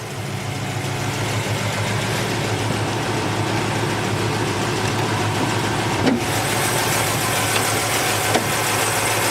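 Rover V8 3.5 engine in a Land Rover Defender 90 with carbon intake manifolds, running steadily at idle, close and constant with no talk.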